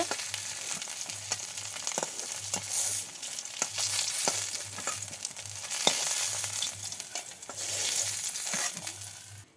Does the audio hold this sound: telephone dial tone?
no